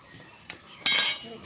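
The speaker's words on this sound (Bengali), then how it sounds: "এখন কোয়াশটা কেটে নেবো" A knife cuts through squash in a home kitchen while a fish curry is prepared, giving a brief scrape followed by a louder crunchy slice with a clink of metal against a board or dish, close and alone.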